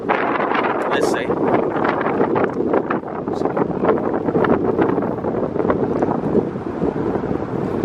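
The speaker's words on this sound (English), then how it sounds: "It's pretty windy, it's getting cold." Strong wind buffets the microphone beside a lake, a loud continuous rushing roar with gusty swells throughout and no clear talk.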